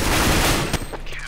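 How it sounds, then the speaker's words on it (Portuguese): Gunfire in the video game CS:GO, a dense loud burst of shots that cuts off sharply, followed by a few fainter clicks and rattles. "ouve-se o tiro da arma perfeitamente"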